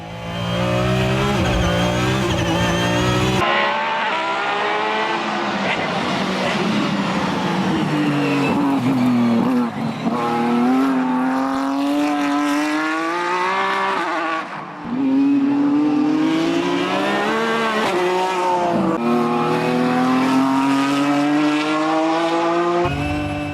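A world-championship Mercedes CLK GTR race car roars around the Hockenheim circuit, its engine screaming through long rising and falling gear sweeps with abrupt shifts, loud and continuous from onboard.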